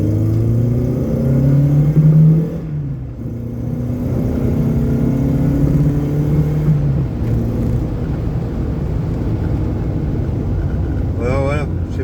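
A Peugeot 205 CTI fitted with a swapped 160 hp 1.6 engine that has an exhaust manifold leak revs loudly up and down nearby, with rising and falling engine pitch and a brief drop in between.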